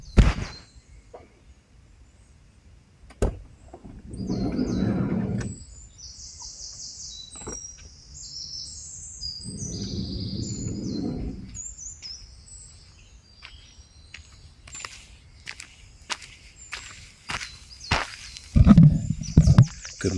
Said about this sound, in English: with the welcome sound of the birdsong.